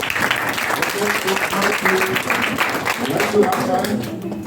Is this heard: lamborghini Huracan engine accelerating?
no